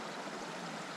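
A creek flowing beside a dry trail where hikers stop for water, heard as a steady, loud broadband rush of running water with no voices.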